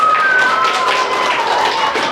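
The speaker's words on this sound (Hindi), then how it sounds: "जोरदार तालियों से एक बार सभी सदस्यों का स्वागत कीजिए" Dense, loud applause from a quiz competition audience welcoming the members, a continuous wash of clapping with a faint tone running through it.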